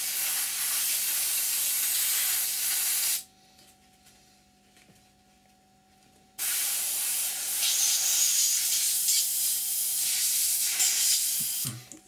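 Airbrush blowing out cleaning fluid while painting a Seafire model, a loud hissing spray that stops for a few seconds and then resumes in a longer burst.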